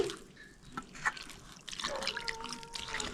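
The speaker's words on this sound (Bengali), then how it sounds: "এবার আমি জল দিয়ে দিচ্ছি" Water trickles in small, gradual pours into a milk batter for patishapta pitha, soft close dribbling and light sloshing in short bursts over a few seconds.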